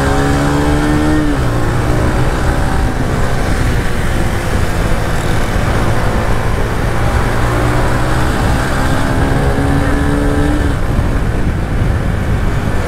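A freshly tuned motorcycle, first tuning after 1,100 km, rides off with a loud, steady engine drone close by, its pitch climbing and shifting through gear changes over several seconds.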